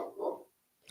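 A single dog bark, fairly close and moderately loud, followed by a short quiet gap and a faint sound at the end; no speech.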